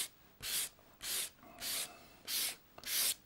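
Pastel scraped across paper in five even, rhythmic strokes, each a short dry rasping rub about half a second long, close and distinct against a quiet background.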